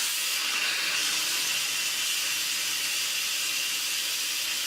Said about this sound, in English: I need one of those steam vent things that directs it away from me.